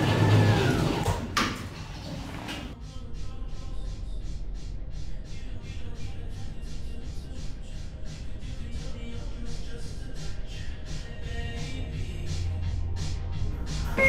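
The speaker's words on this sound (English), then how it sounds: "Door closing." Schindler 5500 traction elevator doors sliding shut in a Roblox game, a steady mechanical glide with a faint repeating chime pattern, fairly loud and continuous throughout.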